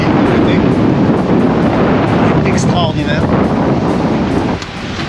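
Strong wind buffets a sailboat at sea close to the Corsican coast, a steady loud broadband roar of gusts and microphone wind noise with water wash, while someone talks over it throughout.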